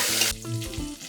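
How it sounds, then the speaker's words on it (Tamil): Loud, steady sizzling of herbs frying in hot oil for prawn biryani in a pressure cooker, a dense crackling hiss that fills the clip with a few stirring bumps underneath. "இப்போ இந்த எண்ணெயில் நல்லா ஃப்ரை ஆகட்டும்"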